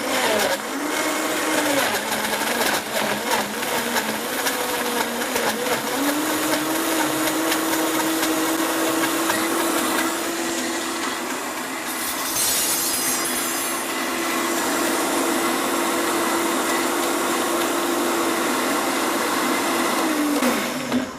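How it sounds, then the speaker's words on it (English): A blender whirring loudly as it purees raspberries and honey into a syrup, a steady close grinding motor roar with a brief dip in pitch midway before resuming. "we're just gonna blend this baby up"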